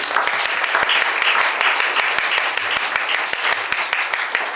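Audience applause at a church service marking a seminary president's inauguration and semester opening, with dense, sustained clapping and sharp individual claps standing out, loud and close throughout.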